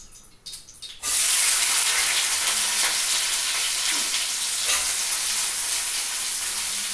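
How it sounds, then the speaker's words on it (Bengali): Onion and garlic frying in hot oil for a spicy mixed vegetable dish, a loud, steady sizzle that starts abruptly after a brief quieter moment and continues unbroken with no talking. "এর মধ্যে আমি পেঁয়াজ আর রসুনটা হালকা আগে ভেজে নিচ্ছি"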